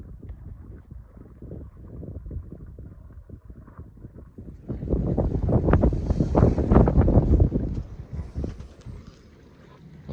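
Gusty wind buffets a sailboat anchored off a Greek island, a low rumbling rush with flapping bursts that builds to a louder gust in the middle before easing.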